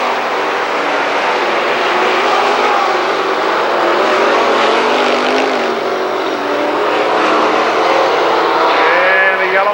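Late model race cars roar around the Lernerville Speedway oval in a dense, continuous engine drone, with a loud pack of cars passing and engine pitches rising and falling throughout.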